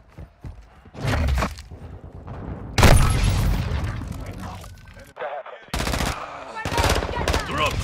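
Grenade blasts and gunfire in Call of Duty Modern Warfare II on the Dome map, with several loud bursts of automatic fire and booms in separate bursts, mixed with voices.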